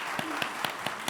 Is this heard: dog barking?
no